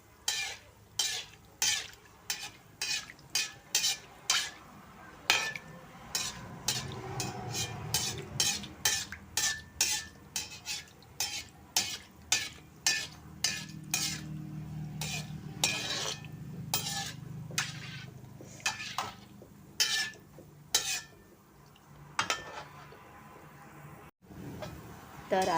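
Gulab jamun frying in hot oil while a slotted ladle repeatedly scoops oil over them, giving rhythmic metal scraping and clinks against the pan over a steady bubbling sizzle, with a voice talking partway through.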